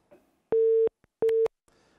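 Telephone line tone heard after a caller hangs up during a live call-in segment on an Albanian morning news broadcast: two steady, loud beeps repeating in a busy-signal pattern, each lasting about a third of a second, with faint noise between them.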